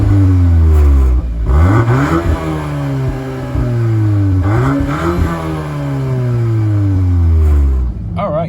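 A 2023 Volkswagen Golf R drives on a winter road, its engine loud and close, revving up through the gears with pitch climbing and dropping at each shift.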